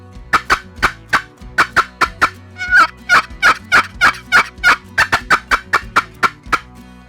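Rapid, rhythmic yelping from a turkey box call imitating an excited hen, a fast run of sharp, raspy notes that builds in intensity, loud and close, with no talking.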